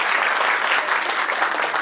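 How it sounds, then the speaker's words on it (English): An audience claps steadily at a school annual day, a dense wash of applause from many hands with no voices standing out. "Let's give a little one more round of applause"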